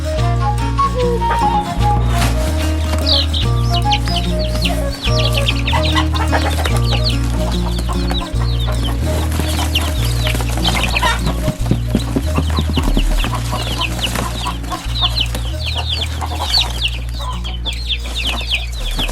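Young chicks sealed in a shipping package, chirping constantly in a dense high twitter over a bed of steady background music.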